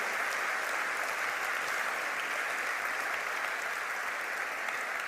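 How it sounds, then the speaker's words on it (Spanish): A church congregation applauds together, a steady, moderately distant wash of clapping that continues evenly throughout. "Le damos un aplauso a este poderoso milagro."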